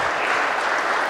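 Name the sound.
audience clapping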